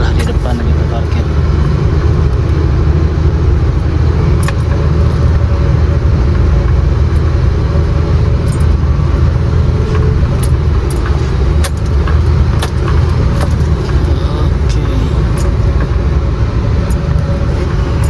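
A car engine rumbles steadily inside the cabin while the car looks for a parking spot on a winding road. People talk over the low drone, and a few sharp clicks and knocks are heard.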